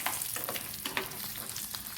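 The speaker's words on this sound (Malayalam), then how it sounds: "ഇതിലേക്ക് ഒരു 20 വറ്റൽ മുളക് ഇട്ട് കൊടുക്കാം. ചെറുതീയിൽ ഇതൊന്ന് നമുക്ക് വറുത്തെടുക്കാം." About twenty dried red chillies fry over low heat in a pan, giving a soft, continuous sizzle with crackling pops and occasional stirring scrapes.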